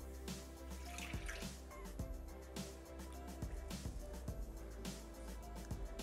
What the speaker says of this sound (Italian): Aggiungere il succo d'arancia.